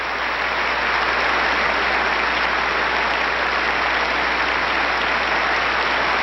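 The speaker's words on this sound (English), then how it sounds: "Every piece of music has been wildly applauded, and they've all received standing ovations." Dense, sustained applause from a large concert audience after an orchestral piece, loud and unbroken throughout with no individual voices standing out.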